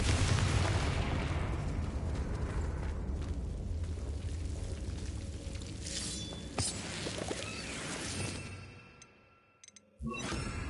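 A Confringo fire-blast spell in Hogwarts Legacy, a fantasy wizarding video game, erupts in a loud, dense explosive roar that rumbles on for several seconds, thins into crackling debris, briefly drops away, then returns.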